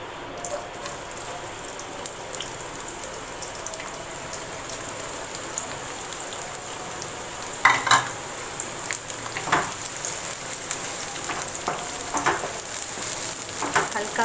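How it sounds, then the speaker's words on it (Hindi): Onions frying in a pan for homemade khade masale ka keema, a steady crackling sizzle throughout with a few louder spits and pops midway, no talking. "इसमें मैं डाल दूँगी प्याज"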